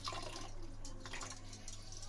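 Running tap water streams steadily over tripe being rinsed and turned inside out, with soft drips and splashes close by, continuous and fairly quiet throughout.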